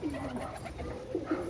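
Pigeons kept for racing tournaments coo softly in a loft, low murmuring calls recurring over steady background noise with no talk.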